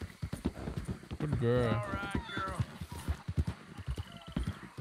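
Horse hooves clip-clopping in a steady rhythm while riding in a video game, with a horse whinnying midway and someone speaking briefly over the hoofbeats.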